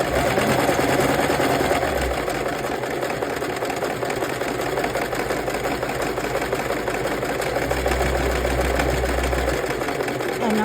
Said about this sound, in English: I'm doing a zigzag stitch because I'm awful with the straight stitch.